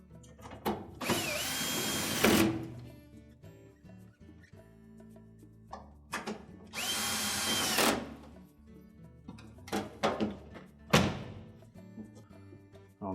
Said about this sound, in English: all we have to do is secure it with the screws